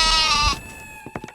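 A goat in a Hindi-dubbed South Indian action film gives one loud, drawn-out bleat close by, then a few faint clicks and knocks follow.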